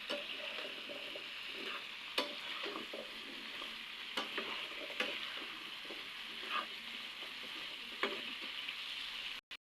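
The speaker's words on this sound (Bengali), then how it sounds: "এবার আমি কচুগুলো এখানে ঢেলে দেব। এবার এগুলো ভালো করে নেড়ে দিতে হবে।" Chunks of taro being stirred in a frying pan for a fish curry, with a steady low sizzle and scattered sharp scraping ticks from the spatula at irregular intervals, no voices.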